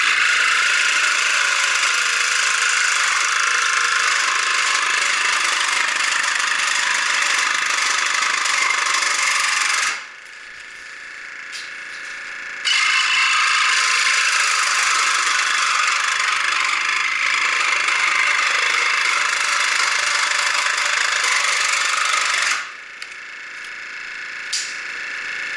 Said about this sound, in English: we're going to rough cut this on table saw